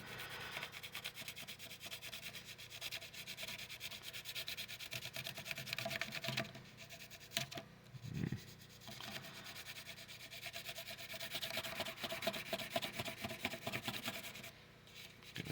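Gasket material rubbed lightly by hand across the carburetor mounting surface of a 1974 Datsun 620 during a Weber conversion, a soft, close scratchy rubbing in uneven strokes with brief pauses, no talk.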